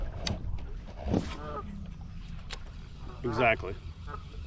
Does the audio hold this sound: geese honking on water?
yes